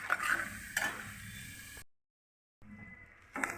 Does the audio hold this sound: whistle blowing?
no